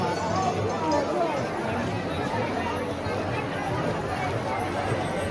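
A busy crowd of shoppers fills the market shops during the Pandharpur wari on Ashadhi Ekadashi, a steady dense murmur of many voices and movement that runs unbroken throughout.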